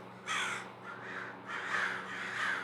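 Crows cawing outdoors: three or four harsh, drawn-out caws in quick succession, fairly close, over a low steady electrical hum.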